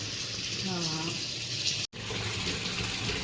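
A washing machine filling with water gives a steady, close rushing hiss of inflowing water that runs throughout, briefly cut off for an instant midway. A faint voice murmurs underneath.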